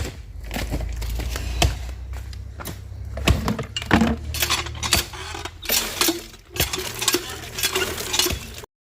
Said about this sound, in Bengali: এখন আর একবার ঘরটা ঝাড়ু দিয়ে নিচ্ছি